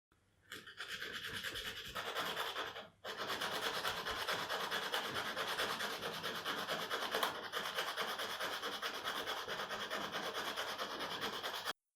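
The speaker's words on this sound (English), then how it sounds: "finally I'm going to sand it in order to get a nice, smooth and even surface." Sandpaper rubbing over the core of a paracord key fob to smooth it, a continuous close scratchy rasp that pauses briefly once, then carries on steadily until it stops.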